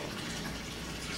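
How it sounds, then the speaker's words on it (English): Water pours steadily while potato plants in an aeroponic barrel setup are watered, a continuous close gushing splash with no talk. "I'm gonna water it"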